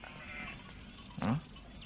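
A single short bleat from a sheep with fine wool rises faintly over a quiet background.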